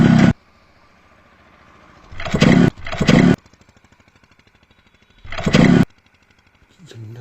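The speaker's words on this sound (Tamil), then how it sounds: "வண்டி ஸ்டார்ட் ஆக மாட்டேங்குது, என்னன்னு தெரில" A motorbike engine fails to start: three short, harsh bursts of cranking that never catch, separated by quiet stretches of faint regular ticking, heard close up.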